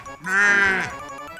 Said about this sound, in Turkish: Aa, bu bir koyun.